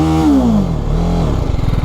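The engine of an Apache RR 310 motorcycle in rain mode makes a close, loud, continuous drone that rises and then settles into a throbbing rev. No one speaks.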